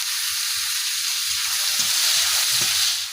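Garlic and salt fry in a pan with a little mustard oil, giving a loud, steady sizzling hiss throughout. Faint low knocks and scrapes of stirring sit under the hiss, and there is no talk.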